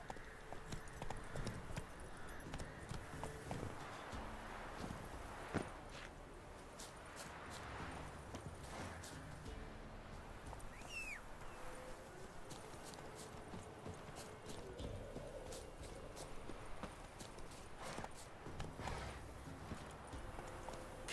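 Roach the horse's hooves clip-clop steadily in The Witcher 3, a continuous quick rhythm of fairly close hoofbeats under faint background ambience.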